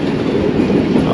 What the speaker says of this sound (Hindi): नौ बजकर 5 मिनट हो रहे हैं और पतोकी रेलवे स्टेशन ट्रेन पहुंच रही है।